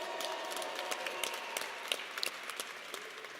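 Crowd applause at a university event introducing a new football coach, a steady wash of many hands clapping with a few sharper claps poking through, moderately distant and without speech.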